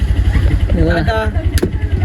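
A steady, close auto rickshaw engine hums throughout a ride, with a voice briefly heard over it.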